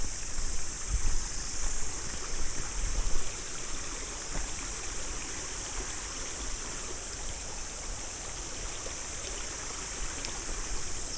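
A small river flows steadily at a trail crossing in New Zealand, a constant broad rushing wash of water heard close and alone, with no talk.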